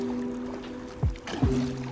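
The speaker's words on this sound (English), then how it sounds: "So I'm just gonna paddle down this way." Oru folding kayak paddled on the South River at low tide, with two distinct paddle strokes dipping and sloshing in the water over a steady low background hum.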